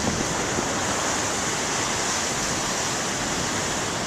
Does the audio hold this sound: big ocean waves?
yes